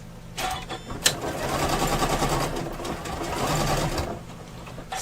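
Embroidery sewing machine stitching a wire frame bag, a close, loud rapid mechanical whir running steadily for several seconds after a couple of sharp clicks, then easing off.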